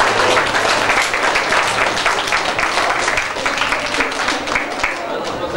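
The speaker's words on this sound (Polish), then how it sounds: "Duże brawa dla Państwa młodych." Sustained applause from a wedding crowd for the newlyweds, dense and steady throughout, with voices faintly mixed in beneath the clapping.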